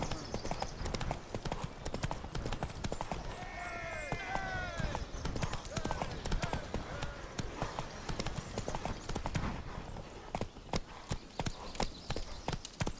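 Roach, a horse in a video game, clip-clops steadily with close, rhythmic hoofbeats throughout, and a neigh briefly rises midway; voices talk at times over the hooves.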